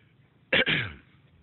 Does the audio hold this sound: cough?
yes